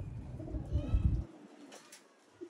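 A female slate-grey Sialkoti pigeon held in the hand gives low, soft cooing close by, a short burst fading into near quiet, with faint rustling.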